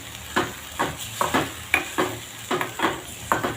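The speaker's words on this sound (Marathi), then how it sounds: "आपण यावर कोथिंबीर घालून घेऊ। छान हलवून घेऊ।" Tomato and green chili chutney with coriander is stirred in a pan, making about eight rhythmic scraping strokes over a soft sizzle, close by with no talking.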